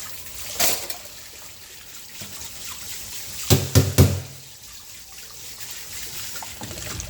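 Water runs steadily from a tap while dishes are washed, with a few sharp clatters and knocks of utensils against the sink near the middle.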